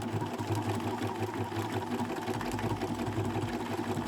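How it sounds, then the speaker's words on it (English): A quilting embroidery machine sews strips of denim together, a steady rapid motor hum and needle chatter running throughout at an even, close-up level with no talk. "This is more of a quilter embroidery machine, so it will sew, strips of denim together"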